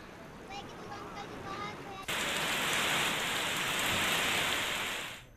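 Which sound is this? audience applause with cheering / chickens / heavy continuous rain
heavy continuous rain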